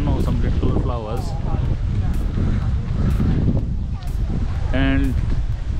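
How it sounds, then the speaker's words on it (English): Cold, steady wind gusts across a hill station among flowering cherry trees, rumbling and buffeting the microphone without a break, while a person talks over it in short phrases. "And the wind is blowing so cold, like cold breeze"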